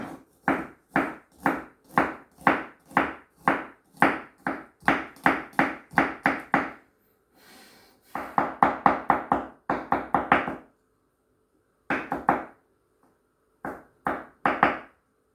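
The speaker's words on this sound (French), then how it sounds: "Ah, là il est haché pareil, on le hache." A knife chops onion and garlic on a cutting board in rapid, steady knocks, close and crisp, running in bursts with short pauses between them.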